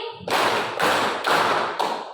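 A classroom of pupils claps together in a rhythmic routine, sounding as a few loud, evenly spaced bursts of many hands at close range, with no voices.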